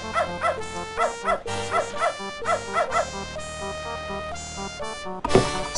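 Repeated rhythmic dog barks and whimpers from a game character's dog in Beneath A Steel Sky, about a dozen evenly spaced yelps over steady background music, ending in a louder sharp burst.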